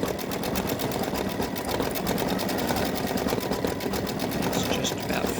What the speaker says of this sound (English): I want to show you it's stitching that programmable stitch on the egg.